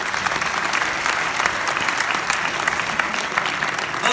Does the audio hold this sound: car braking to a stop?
no